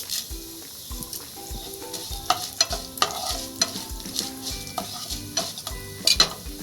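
Fenugreek seeds sizzling in oil over a low stove flame, a continuous crackling fry broken by repeated clinks and scrapes of a stirring spoon against the pan, close and fairly quiet, with no talking.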